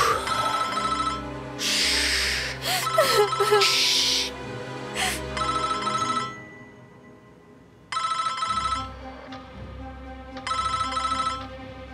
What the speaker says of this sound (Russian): У тебя телефон звонит.